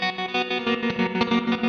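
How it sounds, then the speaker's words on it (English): Electric guitar played through a Tonex preset with a 16th-note chopper tremolo, sustained chords pulsing in quick, even on-off bursts with a washy, effects-laden tone, played alone at moderate loudness. "like the 16-note chopper, like tremolo kind of thing"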